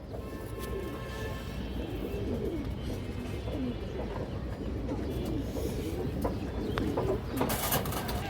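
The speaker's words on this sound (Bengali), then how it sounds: "বড় সাইজের একটা বাঘা মাদি কবুতর, পুরান লাইনের কবুতর।" A large Bagha female pigeon of an old bloodline coos in low, rolling bursts at close range, over a steady hum of background noise.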